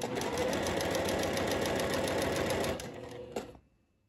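A sewing machine stitches a seam on a floral sundress just past the placket, a loud, even, fast mechanical hum close by for nearly three seconds before slowing, a short clunk, and silence.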